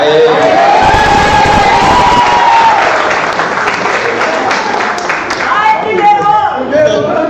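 Loud round of applause from an audience at a financial management conference session, dense clapping mixed with cheering, whoops and excited shouting voices, rising to a lively crowd roar near the end.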